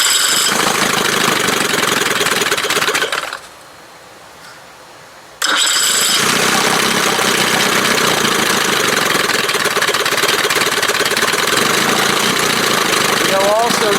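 A 1971 Johnson 20 hp outboard motor runs loud and close with a steady buzzing drone, cuts out abruptly for about two seconds, then roars back and keeps running evenly.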